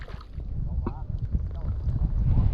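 Wind gusting over water during lift-net fishing, a steady low rumbling rush with buffeting on the microphone throughout, under brief bits of speech.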